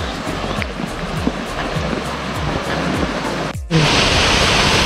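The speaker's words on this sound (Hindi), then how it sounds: "वाटरफॉल जो बहुत प्यारा वाटरफॉल है" Waterfall in Meghalaya during the low-water season: a steady, dense rush of falling water fills the scene, swelling abruptly louder and brighter near the end as if heard from closer.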